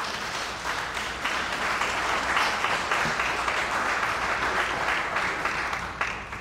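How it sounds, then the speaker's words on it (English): An audience at a Department of Corrections promotion ceremony gives a round of applause, with steady clapping that swells and then fades near the end. "Give them a round of applause."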